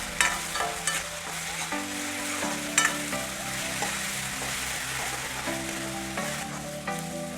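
Browned onions and freshly added ginger-garlic paste fry in a pan, giving a close, continuous sizzle with repeated stirring scrapes, while soft background music plays throughout.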